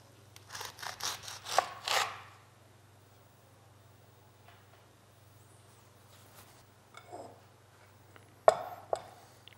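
A serrated knife saws through hard passion fruit rind in a burst of short, scratchy rasping strokes, then quieter scrapes follow and a sharp crunch comes near the end, all close and over a low steady hum.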